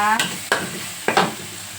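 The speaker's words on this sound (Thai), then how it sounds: "เราก็ผัดพริกให้หอมก่อนนะคะ" Chilies being stir-fried in a pan for squid with holy basil make a steady sizzle, cut by three sharp scraping stirs of a spatula, heard up close with no talking.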